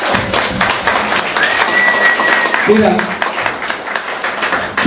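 A church congregation claps its hands for God during a Spanish-language sermon, a dense, steady wash of applause running the whole time beneath a preacher's voice.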